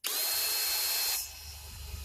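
A power drill bores holes through a plastic trash can that is being made bear and raccoon proof. It whines loudly for about a second, then stops, leaving a low rumble.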